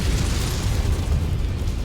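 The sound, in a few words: artillery explosion in video game MechWarrior 5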